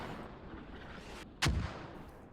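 A single sharp mortar blast cracks out in Squad, a loud, brief impact with a short rumbling tail against a quiet battlefield background.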